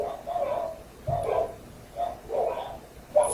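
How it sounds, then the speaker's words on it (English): Several house dogs barking indoors in bursts of repeated barks, about five clusters over a few seconds, moderately loud and fairly close, with no talking over them. "my dogs have obviously started to bark like crazy"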